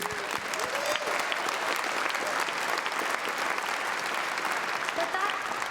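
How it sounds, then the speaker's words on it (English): An awards-night crowd at the Maple Blues Awards applauds the winners, with sustained, loud clapping filling the hall throughout and a few faint voices and cheers mixed underneath. "Let's give them all a round of applause."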